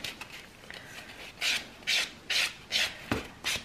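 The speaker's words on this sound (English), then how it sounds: "And then filing out around that cuticle line" A nail file of about 180 grit rasps an acrylic nail tip along the cuticle line, giving six short, close scraping strokes in a steady rhythm after a quiet start, with no talking.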